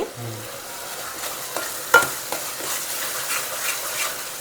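Prawns sizzle steadily in a hot pan while being stirred and mixed, a close, continuous frying hiss broken by a few soft scrapes and one sharper clink of the utensil, with no voices.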